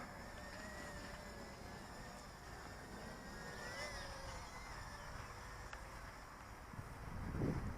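Wind buffets a small Realacc R374 mini quadcopter drone in outdoor flight, a steady broadband rush throughout with a faint motor whine, swelling into a louder gust near the end.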